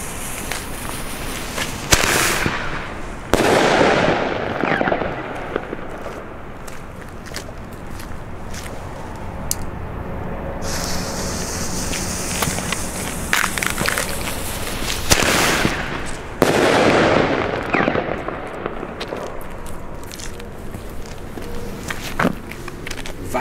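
Fireworks and firecrackers go off on a street on New Year's Eve, including Titan-type bangers. Several sharp, loud cracks and crackling bursts are spread across the stretch, with quieter rustle and footsteps between them.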